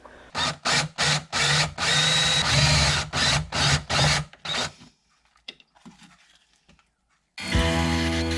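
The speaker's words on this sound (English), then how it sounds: "I'm going to need to drill a hole right where that hole is" A power drill whirs in a series of short bursts, then a pause with faint clatter, before the drill spins up loudly again.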